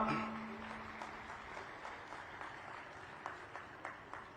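An audience at a Haryana celebration of Guru Gorakhnath's appearance day claps to welcome a guest, a soft, fairly distant patter of applause that fades slightly, with a few sharper individual claps toward the end.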